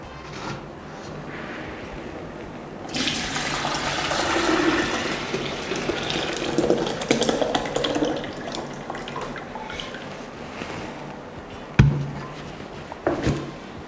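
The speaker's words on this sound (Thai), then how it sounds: "กรองชาได้เลยค่ะ" Homemade Thai tea poured through a cloth tea filter into a jug, a steady watery splashing and trickle that runs for several seconds before slowing to a few drips, with no one speaking.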